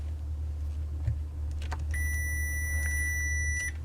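A continuity tester on a breadboard gives a single steady electronic beep, high-pitched and continuous for about two seconds, over a low background hum.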